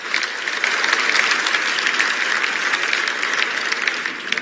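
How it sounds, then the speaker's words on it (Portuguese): Steady, sustained applause from an audience for the Brazilian president, a dense even wash of clapping heard at moderate distance without a break. "E aí o Lula aplaudido de novo."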